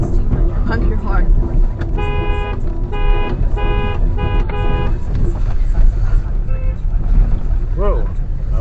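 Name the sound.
car horn honking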